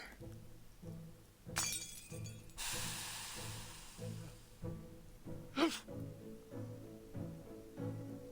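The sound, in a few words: potion bottle smashing on the floor in Reverse: 1999 video game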